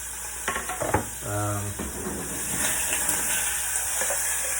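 Steak sizzles and hisses steadily in a hot pot, with a few sharp clatters and a brief resonant ring near the start.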